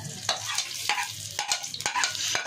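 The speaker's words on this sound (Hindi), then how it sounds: "ऑयल डालने के बाद हम इसमें प्याज डाल देंगे।" Onions frying in hot cooking oil for chana dal, heard up close as a crackling sizzle broken by several stirring scrapes, without talk.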